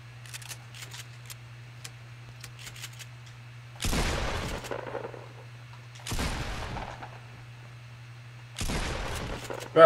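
Bursts of automatic gunfire from a video game shooter arrive in three loud volleys, each lasting under a second, over a steady low game hum with faint scattered clicks between them.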